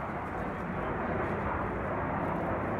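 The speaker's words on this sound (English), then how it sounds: "Right now I've got a F-18 Hornet, Super Hornet flying over." An F/A-18 Super Hornet jet from Oceana Naval Air Station near Virginia Beach roars overhead, a steady loud broadband engine rush that holds without pause.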